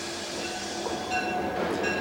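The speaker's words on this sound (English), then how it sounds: "This train was only a small branch line, an 8-hour run that connected up with the main Trans-Canada line." A train on a small Canadian branch line rolls along steadily at close range, its carriages rumbling over the track with faint wheel clatter and a brief metallic squeal. No voices are heard.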